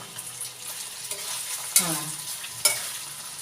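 Cubes of paneer fry in a pan while being stirred, giving a close, soft sizzle with a couple of sharp scraping clicks from the stirring.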